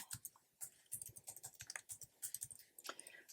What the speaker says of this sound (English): I'm simply going to type Mrs. Claus mug, coffee mug